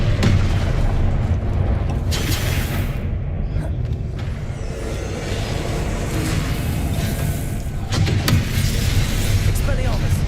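Confringo blasting spells explode repeatedly in Hogwarts Legacy combat, loud booming bursts and rumbling blasts recurring over a dense, noisy fight, with a voice speaking through parts of it.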